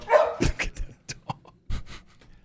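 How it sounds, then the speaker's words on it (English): A dog barks and yips close by in short irregular bursts, with panting and whimpering between the barks. "That's a fun dog right there."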